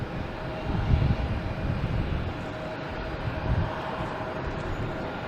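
An American Airlines plane from Philadelphia at Logan Airport at night, its engines a broad low roar that swells and holds steady, heard from outside with some wind buffeting, no talk.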